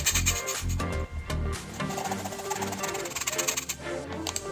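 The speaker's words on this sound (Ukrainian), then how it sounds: "Для початку нам потрібно просіяти борошно." Flour for shortcrust pastry is sifted in a home kitchen as part of an onion pie recipe, a continuous rubbing, rasping sound near and fairly loud, with a voice speaking over part of it.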